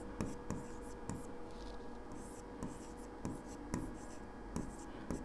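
A pen writes on paper up close, steady scratching strokes broken by regular taps as the pen lifts and lands, with faint room hum behind and no talk.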